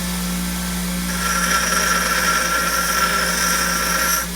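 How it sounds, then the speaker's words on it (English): A power grinder works metal on a 1946 Maytag 72D engine, running steadily at a high whine for about four seconds, close and loud, with no talking. "The grinder does make fast work of it though."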